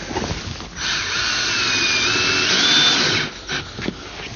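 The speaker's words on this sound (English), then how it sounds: "we've already got our screwdriver torque set pretty low because you don't want to strip your base with the screws" A power screwdriver with its torque set low drives screws into a pontoon boat furniture base, giving a steady close whir of about two and a half seconds that then stops, followed by a couple of short bursts.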